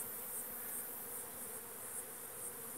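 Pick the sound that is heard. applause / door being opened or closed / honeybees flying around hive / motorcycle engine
honeybees flying around hive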